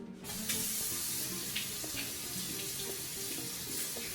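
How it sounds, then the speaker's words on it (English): Potatoes are rinsed under a running kitchen tap, a steady close hiss of flowing water splashing into a sink, unbroken throughout. "we're going to start by rinsing our potatoes to keep all the germs off"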